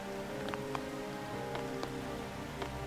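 Rain falls steadily in the Rain Realm of the video game The Alliance Alive, a soft continuous patter with scattered individual drops over a faint background hum.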